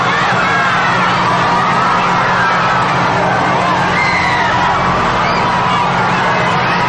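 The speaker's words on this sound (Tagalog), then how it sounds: "Papal Motorcade na talaga naman pong sinasalubong ng malakas na hiyawan." A huge crowd cheers loudly for Pope Francis's papal motorcade heading to Villamor Airbase, a continuous roar of shouts and whoops with excited screams rising from the dense mass of people.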